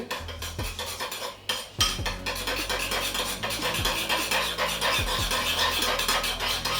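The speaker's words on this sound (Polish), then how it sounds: "to po prostu go mieszamy, żeby połączyły się wszystkie składniki" Caesar salad dressing being stirred in a bowl, a utensil scraping and clinking against the sides in a steady rhythm, close and fairly loud with no talking.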